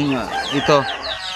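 Native chickens cluck in a short, close-up burst of a few throaty calls.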